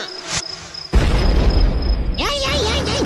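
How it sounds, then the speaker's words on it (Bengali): A crude bomb bursts nearby with a sudden loud boom that gives way to a sustained roar and crackle, while crickets chirp faintly before it and a voice calls out afterward. "ওরে বাবা রে, বোমা ঝাড়ছে কে?"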